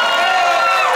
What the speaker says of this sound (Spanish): un fuerte, bonito y delicioso aplauso para José